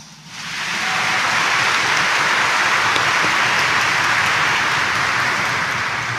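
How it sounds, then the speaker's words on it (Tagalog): A church congregation at a Jesus Nazareno service claps loudly together, a dense sustained wash of applause that swells in within the first second and holds steady to the end, close and full, with no speech over it. "pumalakpak ng mas malakas."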